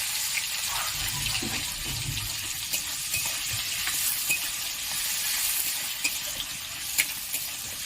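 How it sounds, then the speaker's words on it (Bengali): Chopped onions hit hot oil in a pan where red chillies have been frying, giving a steady, close, hissing sizzle with small crackles and no talking. "এবার এতে আমি পেঁয়াজ কুচিগুলো দিয়ে দিলাম"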